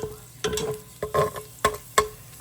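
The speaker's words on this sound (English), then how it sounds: "we're gonna keep the onions in there for a little bit, for about 3 to 4 minutes once we get the onions in there" Onions sauté in a pan for a Thai red coconut curry, with rhythmic bursts of stirring and sizzle roughly every half second over a quieter background hiss, close up and with no one speaking.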